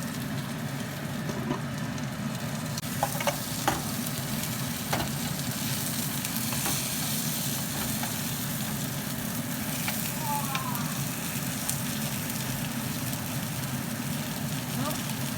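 Five spice chicken pan frying under a lid, a steady soft sizzle running throughout with a few faint clicks and taps, fairly quiet and even.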